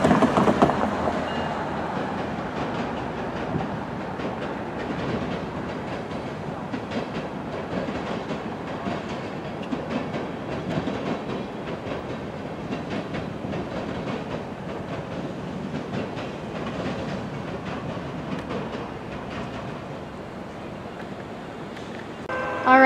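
A freight train on the San Joaquin Valley Railroad rumbles steadily past a grade crossing at close range, with the crossing bell ringing throughout.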